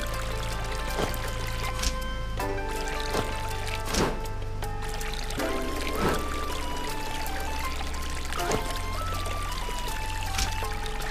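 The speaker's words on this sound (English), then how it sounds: "Water is flowing again." Water flowing through a bamboo pipe in the Vlad and Niki: World Travel Japan game, a steady pouring trickle under light cheerful game music with periodic soft chimes.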